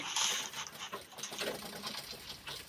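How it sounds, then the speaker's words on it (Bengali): A sewing machine runs a second line of stitching along the side of a sack bag, a steady busy whirr that lasts the whole stretch at moderate, close range. "দেখতেই পাচ্ছ তোমরা এখন ডবল সেলাই মেরে নিচ্ছি"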